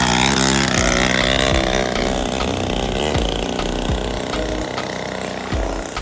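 A small cheap Chinese motocross bike bought from Wish runs at high revs, its buzzy engine holding a loud, steady rasping drone with brief pitch dips as the throttle shifts.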